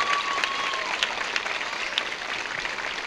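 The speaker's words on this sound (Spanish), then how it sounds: "fuerte ese aplauso para ella." Crowd applause at a roller skating event held at a club, a dense, loud patter of clapping throughout with a faint tone near the start and no talk.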